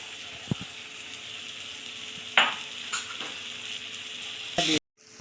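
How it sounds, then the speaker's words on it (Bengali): Spice paste with peanuts frying in a pan while making masala baigan, a steady close sizzle broken by a few sharp scraping stirs and clinks, cutting abruptly to near silence at the end. "মশলাটা একটু ভেজে নেব। এই যে বাদাম দিয়ে দিচ্ছি।"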